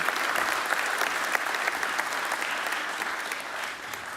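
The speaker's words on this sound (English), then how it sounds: "I would like an applause for Steve" An audience applauding speaker Steve at a classic yacht symposium: continuous, full-room clapping, even and sustained throughout with no voices breaking through.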